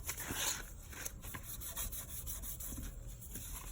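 Hand scuffing of a car wheel ahead of painting it black, an Infiniti G37 rim, gives a steady close rasping rub that continues with small swells for the whole stretch, no voices over it.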